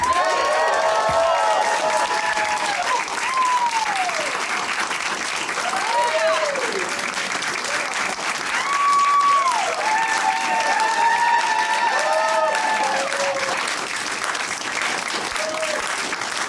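Sustained applause from a large crowd at a live music session, with scattered whoops, cheers and whistles rising over the clapping, continuing steadily throughout.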